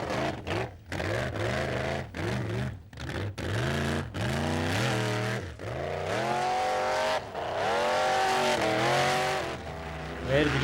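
A light, nimble formula off-road car at a 1995 Icelandic competition revs hard and loud up close. Repeated rising and falling pitch sweeps come in bursts, with brief drops between gear changes and throttle blips.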